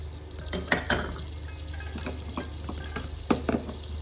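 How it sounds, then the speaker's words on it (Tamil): Mustard seeds and dried red chillies fry in hot oil for a carrot stir fry, a close continuous sizzle broken by spatters, spoon stirs and occasional clinks against the pan. "இப்போ நாங்கள் கடுகு போட்டுக்கலாம். அப்புறம் காஞ்ச மிளகாய்,"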